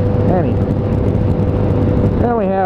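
A 2006 Yamaha FZ1 motorcycle cruises in sixth gear with a steady engine and wind drone, with a voice talking over it near the start and end.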